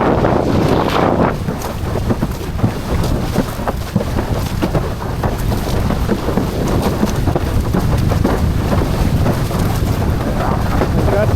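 Strong, constant wind roars and buffets the microphone while windsurfing on open water, with water splashing against the board throughout and no clear talk.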